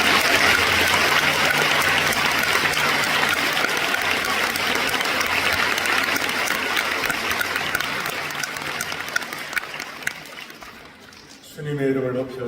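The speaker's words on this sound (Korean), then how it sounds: "우리 목사님 더 힘내시라고 우리 격려의 박수 한번 어떨까요?" A church congregation applauding, a loud, dense, sustained wash of clapping from many hands that slowly thins and fades before a voice begins speaking at the end.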